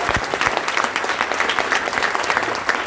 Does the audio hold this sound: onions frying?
no